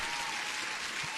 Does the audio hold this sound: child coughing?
no